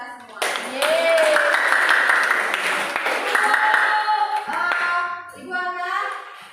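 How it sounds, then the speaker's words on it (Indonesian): A small group of people clap together in a classroom after an experiment lesson, bursts of hand claps mixed with cheering voices and an excited shout. "Kita beri tepuk tangan untuk kita semua."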